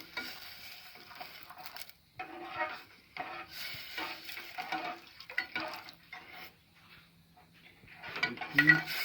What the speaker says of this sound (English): it's time we add our stock into it